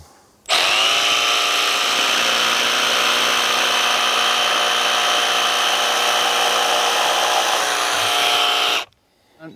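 Milwaukee barrel grip jigsaw running: it starts abruptly and holds a loud, steady, high buzzing whine for about eight seconds, then stops, close and without talk.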